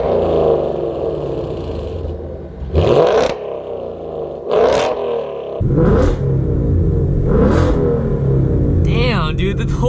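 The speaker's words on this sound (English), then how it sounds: "get some exhaust clips" A Ford Mustang GT 5.0 with a loud exhaust, parked outdoors in open country, revs hard in four or five close, throaty bursts over a steady, rumbling idle.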